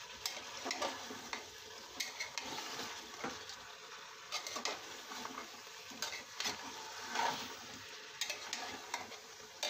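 Taro and meat are stir-fried in a pan, giving a faint sizzle broken by irregular scrapes and clicks of stirring, with no voices.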